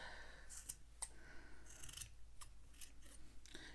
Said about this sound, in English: Now I can trim this really tightly